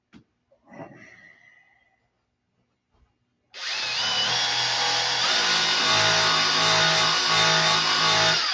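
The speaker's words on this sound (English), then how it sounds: "I've been looking for a jitterbug sander." A jitterbug sander starts up after a few faint handling noises and then runs in a loud, steady, close buzzing whine while polishing.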